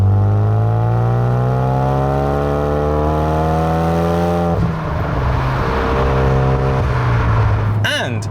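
A Hyundai Veloster Turbo SE accelerates hard, its engine note climbing steadily through the revs, loud and close, then a gear change and the pull continuing, with a voice briefly over it.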